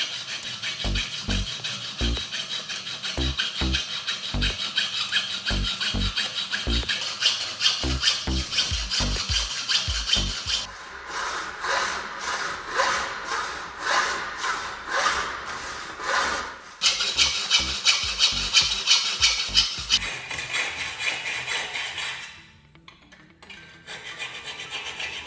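A hand hacksaw cuts galvanized metal tube with steady rasping strokes, close and loud, at first in a regular back-and-forth rhythm, then a quicker run of strokes before it slows and stops.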